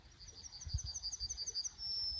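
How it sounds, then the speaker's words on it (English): Birds chirp and sing in a repeating series of high, bright calls outdoors in a quiet Polish town, ending in one sustained whistle-like note, with faint low background rumble. "Listen to the beautiful bird sounds."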